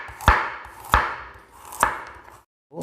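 A knife chops through a peeled carrot on a cutting board with three loud, evenly spaced thuds, each ringing off briefly before the next, followed by a short pause and the start of a fourth cut.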